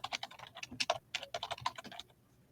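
Rapid clicking of keys on a computer keyboard as a folder is renamed to a client folder, a close burst of uneven keystrokes that trails off into near silence at the end.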